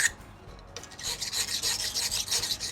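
A steady, rhythmic rasping of a knife blade stroked back and forth across a whetstone, repeated strokes, close and fairly loud, no talking.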